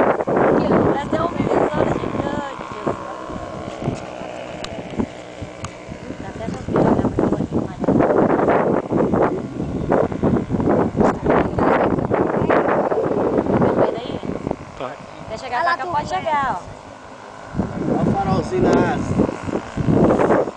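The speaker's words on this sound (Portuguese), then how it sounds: "dá uma balançada por causa do vento" Wind buffets an ultralight aircraft in flight, a loud, continuous roaring rush that swells and eases in gusts, with people talking over it throughout.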